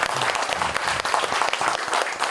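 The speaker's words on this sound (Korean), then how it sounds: "박수 안 줍니까?" An audience at a talk concert applauds with close, crisp individual claps in a brisk, uneven patter. The clapping stays fairly loud through the short stretch.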